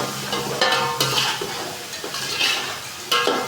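Rice and salt being stirred in a cooking pot: repeated close scraping and rustling strokes of a spoon against the pot, uneven in rhythm, with a faint sizzle beneath and no voices.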